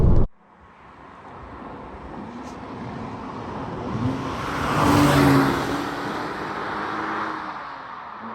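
A Porsche pulls away from a launch, a muffled thump giving way to a rising engine drone heard from inside the cabin, swelling toward a peak and then easing off.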